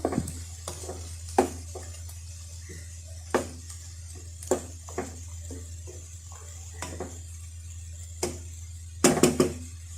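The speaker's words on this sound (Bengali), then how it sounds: "একটু নেড়ে দিব" A utensil scrapes and taps against a pan while eggplant fries with dried lotte fish, light irregular clinks over a faint steady sizzle, with a louder clatter near the end.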